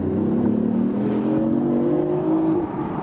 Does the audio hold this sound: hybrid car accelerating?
yes